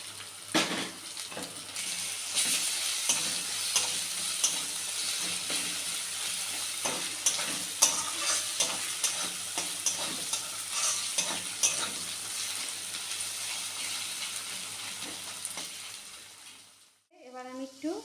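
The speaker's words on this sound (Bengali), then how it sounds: "পেঁয়াজটা হালকা ভাজা হয়ে এসছে, এবার আমি রসুন কুচি, আদা কুচি, লঙ্কা কুচিগুলো দিয়ে দিচ্ছি।" Chopped onion, garlic, ginger and green chili fry in oil in a pan for aloo paratha, giving a steady soft sizzle with occasional stirring scrapes, close by and fairly quiet, ending with a brief clatter.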